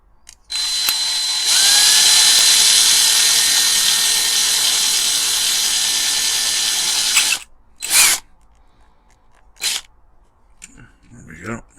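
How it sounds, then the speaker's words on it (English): A power drill runs steadily for about six seconds, boring into a die-cast Corgi 420 Ford Thames Airborne Caravan model. A close, loud whine holds its pitch throughout, with a few short bursts of the drill afterward. "Got a bit of shrapnel on the end of my drill."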